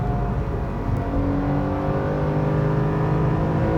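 Porsche 911 Carrera 4 GTS engine pulling under acceleration, a steady, loud, close drone with a rising harmonic whine throughout the short stretch.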